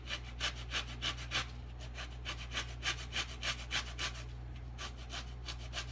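Lemon being zested for homemade strawberry jam, a steady run of quick, close rasping strokes against the grater, fairly faint and alone.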